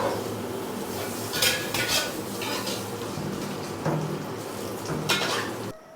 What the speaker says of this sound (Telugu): మళ్ళీ గిన్నెలో నీళ్ళు వేసిండు